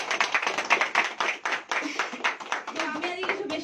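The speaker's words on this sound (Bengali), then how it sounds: "তো তার জন্য নিজেদের জন্য একটা জোরদার হাততালি।" A crowd applauds at a new office opening in Kolkata, West Bengal, the steady, dense clapping running through the whole stretch with some voices mixed in.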